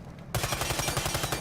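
Suppressed gunfire from a weapon fitted with a tactical silencer in Warface, a rapid automatic string of muffled, clipped shots. The shots start abruptly after a brief pause and repeat in an even, fast rhythm.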